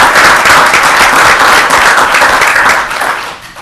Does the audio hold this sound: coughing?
no